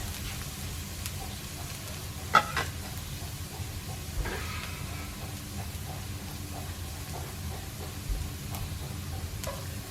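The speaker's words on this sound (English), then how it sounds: "And then I'm gonna add in the garlic" Two garlic cloves frying in olive oil in a pan give a soft, steady sizzle with a few small pops and crackles scattered through it. No one speaks.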